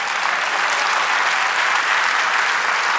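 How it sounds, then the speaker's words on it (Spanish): A church congregation applauds steadily in a dense, loud wash of clapping that fills the room without a break. "Dale un aplauso, Señor."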